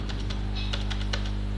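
Typing a number into an Excel spreadsheet on a computer keyboard, a run of light, evenly spaced key clicks close by over a steady low hum.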